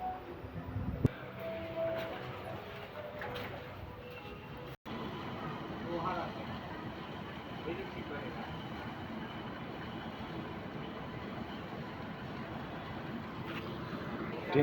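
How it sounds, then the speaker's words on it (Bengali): A train pulling into a railway station platform, a steady low rumble and rattle of carriages over rails heard from nearby, with a sharp knock early on and faint background chatter throughout. "ট্রেন চলে এসেছে, তো আমি এখন তাড়াতাড়ি 1 নম্বর প্ল্যাটফর্মে যাচ্ছি"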